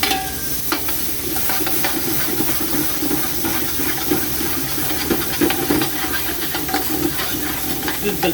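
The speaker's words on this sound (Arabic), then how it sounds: "شوح بصلاية" Onion sautéing in hot oil in a home kitchen, ahead of rice with liver: a steady, close sizzle and hiss that runs without a break the whole time, with occasional light stirring clicks.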